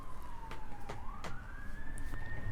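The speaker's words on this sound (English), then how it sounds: "Sorry about that ambulance." An ambulance siren wails on a residential street, its tone gliding slowly down and then rising, moderately loud and fairly steady, with a few sharp knocks nearby and no speech.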